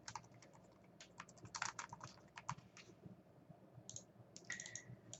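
Typing on a computer keyboard while building a graph in GraphPad Prism 7: quiet, close clicks in irregular bursts, some quick runs of keystrokes and a few louder taps near the end.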